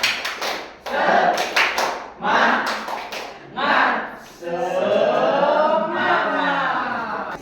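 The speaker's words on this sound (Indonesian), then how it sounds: "Tepuk semangat." A school class claps in a brisk rhythmic pattern, bursts of claps alternating with children chanting together in unison in Indonesian.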